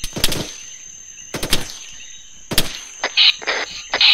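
Gunfire in the video game ARMA 3 during a bunker assault, with three sharp bursts of shots spaced about a second apart, then several quicker, lighter cracks, with no talking.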